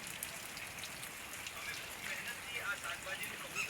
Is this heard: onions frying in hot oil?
no